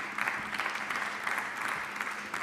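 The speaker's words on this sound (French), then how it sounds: "Je crois qu'on peut l'applaudir." A chamber of the French Senate breaks into steady applause, a dense patter of many hands clapping at moderate distance, even and sustained without cheering.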